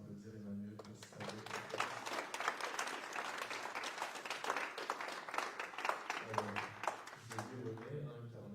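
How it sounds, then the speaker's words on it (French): After a talk at a French church gathering, an audience claps steadily and fairly close for several seconds, with speech heard briefly before and after the applause. "Je pense qu'on peut encore applaudir Emmanuel pour sa"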